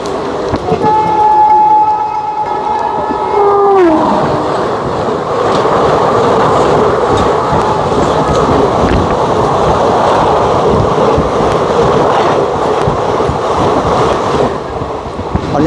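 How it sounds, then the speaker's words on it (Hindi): A passenger train pulls into a small Indian railway station on the Ballia–Sealdah route, its horn sounding steadily, then a loud, continuous rumble and clatter of carriages rolling close by. "देखिए आ चुका है ट्रेन, चलिए बैठते हैं"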